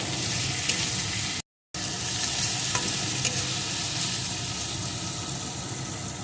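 Spices with green chillies and salt are stir-fried in a pan for a duck egg curry, giving a close, continuous sizzle with occasional stirring scrapes and a short silent gap, and no speech.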